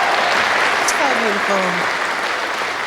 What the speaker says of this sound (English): Let's have another round of applause for that awesome story.